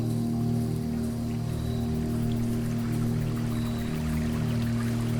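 Steady running water in the Blue Prince video game, an even, continuous pouring hiss under a sustained low hum, with no talking.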